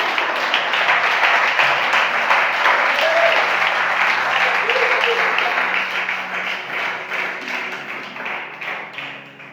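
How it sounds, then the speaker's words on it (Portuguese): A church congregation claps in praise in steady, dense applause with crisp individual claps and some background murmur. The clapping gradually fades toward the end. "E se você pode, exalte aplaudindo Jesus Cristo."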